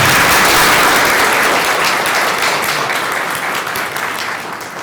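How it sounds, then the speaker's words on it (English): An audience at a 2017 spelling bee applauds the judges, loud dense clapping that starts at full strength and slowly tapers over about five seconds. "Let's give them a round of applause."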